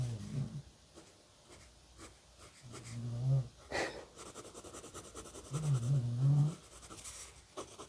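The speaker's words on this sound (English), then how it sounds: "One of my dogs is snoring right now." A sleeping dog snores near a cozy fireplace in slow, rhythmic wheezing breaths, each a drawn-out low rasp roughly every few seconds, close and fairly quiet over faint scratching.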